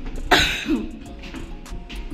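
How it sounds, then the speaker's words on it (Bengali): Inside a hotel in Darjeeling, a person gives one sharp, close cough with a throat clearing, followed by a softer rasping clear, then quiet. "কি কাশি হয়ে গেছে।"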